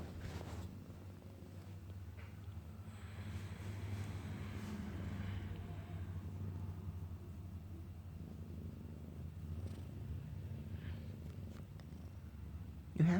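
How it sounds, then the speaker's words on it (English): A cat purring close up in a favourite sleeping spot, a steady low rumbling purr that continues throughout without pause and without talk. "Yeah, you can hear her purring."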